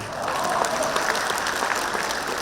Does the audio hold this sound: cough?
no